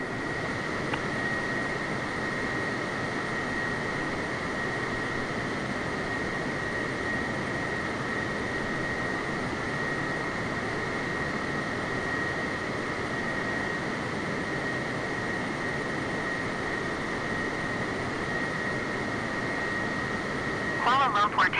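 A Boeing 747 jet at Kuala Lumpur International Airport gives off a steady, fairly distant engine roar that holds level and unbroken throughout, with a faint tonal whine riding over the broad rumble.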